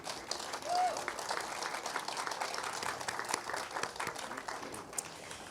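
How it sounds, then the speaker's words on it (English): Audience applause fills a health center grand opening, a steady wash of clapping with some voices mixed in, moderately loud and continuous throughout. "please help me thank both of them with a round of applause"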